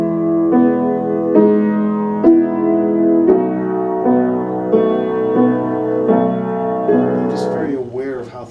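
A piano played slowly and steadily in rhythm during focused practice, with a series of evenly spaced chords sounding close and clear, ending in a brief scrape.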